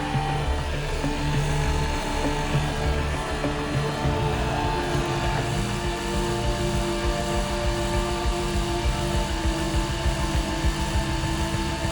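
A Liberty Engine generator runs without cables or batteries, a steady droning mechanical whir with a dense rhythmic chop throughout, loud and continuous.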